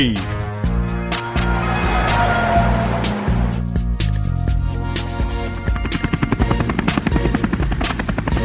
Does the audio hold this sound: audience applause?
no